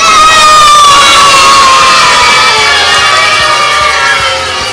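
Kindergarten children at a school cheer and shout together in a loud, sustained burst of high voices that fills the space, with applause likely mixed in and no clear talk.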